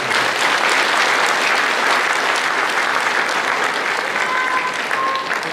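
An audience at a People Power Party members' convention in South Chungcheong claps loudly and continuously, a dense, even wash of applause from a large crowd filling the hall with no voices on top.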